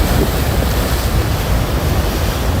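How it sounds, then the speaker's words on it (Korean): Sea waves breaking on a beach at night at Sacheon, Gangneung, a steady loud wash of surf with wind noise, continuous throughout with no voices. "파도가 치고 하네요."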